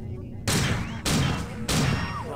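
Three loud bursts of gunfire from the video game System Shock 2, each a sharp blast with a lingering rattling tail, spaced about half a second apart over a quiet background.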